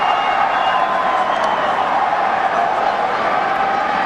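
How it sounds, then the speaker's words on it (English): Crowd at a baseball stadium during a Yankees at Twins 2004 ALDS Game 3, heard as a dense, steady roar of many voices that holds level throughout without distinct peaks. "And the crowd is extremely disappointed."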